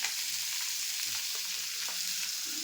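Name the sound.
fenugreek leaves softening in hot oil in a kadhai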